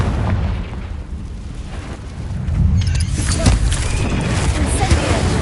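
A Confringo blasting-curse explosion in the game Hogwarts Legacy, a heavy booming blast with crackling debris that swells midway and rumbles on under a faint voice.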